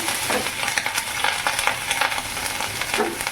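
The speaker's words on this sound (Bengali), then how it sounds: "বাকিটা নিয়ে পেঁয়াজ বাটা দিলাম" Dense, crackling sizzle of onion paste frying in hot oil, with scraping stirs and faint clinks of a utensil.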